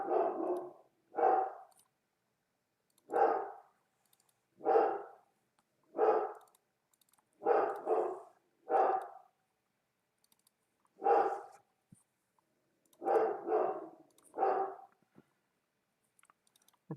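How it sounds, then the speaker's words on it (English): A dog barks in repeated bursts, single and doubled, loud and close, spread over about seventeen seconds with short quiet gaps and no talk. "My dog is going crazy."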